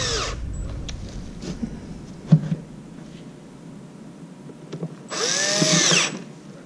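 A power tool briefly whirs at the start and again near the end, tightening seat bolts on a RZR, with quiet clicks and handling noises in between.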